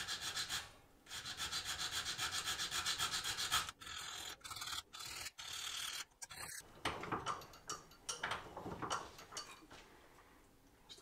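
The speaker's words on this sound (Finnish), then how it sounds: "Ja nyt mä nyhrään siitä tämmöisellä pienellä viilalla vähän pois." A small hand file scrapes a Volvo 740 T6 engine part during engine assembly. Quiet, close, rhythmic rasping strokes come with short pauses between them, and no one talks.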